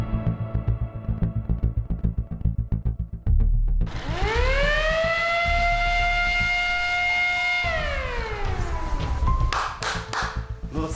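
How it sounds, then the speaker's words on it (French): A wake-up siren at a military cadet boarding school in Blida sounds at 6 am, rising into a loud sustained wail that holds several seconds before winding down, after a stretch of rhythmic knocking. "La sirène de l'école retentit."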